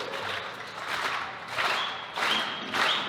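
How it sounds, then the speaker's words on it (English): An audience gives a slow clap during a bridge load test at a national final, heard as broad bursts of clapping rising and falling in waves that grow louder toward the end, with no clear talk. "we're going to give them a slow clap to help them across"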